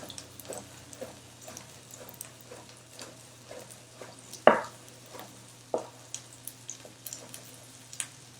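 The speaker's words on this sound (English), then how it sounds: "I'm just going to make some thin slices with my pickles." A knife slicing pickles thinly on a cutting board, a series of soft, irregular taps with one sharper knock, close and quiet over a low background hum.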